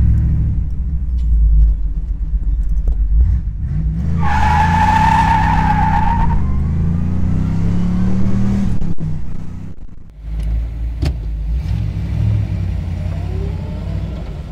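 A 1967 Chevy Camaro RS/SS convertible with a 350 V8 does a burnout, the engine revving and rumbling loud and close while the tires squeal in a long screech, then the engine keeps roaring.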